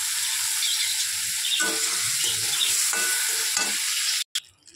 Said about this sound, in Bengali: চিংড়ি মাছ বেশি ভাজা করতে নেই, যেহেতু হালকা করে ফ্রাই করে নেব